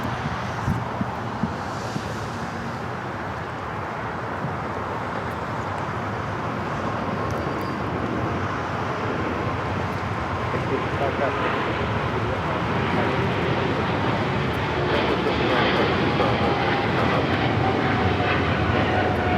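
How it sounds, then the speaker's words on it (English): EVA Air Boeing 777-300ER taking off from runway 25R at Los Angeles airport, its engines a broad, steady roar that builds slowly and stays loud and continuous, heard from a distance outdoors. "This is EVA Air Flight 5 taking off to Taipei on the 777-300ER."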